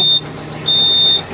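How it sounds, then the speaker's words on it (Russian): A YTO X1304 tractor's low-fuel warning sounds as two high, steady electronic beeps, one short and one longer, over the low hum of the tractor's engine. "пищит, скорее всего, что наличие топлива. Мало топлива в баке."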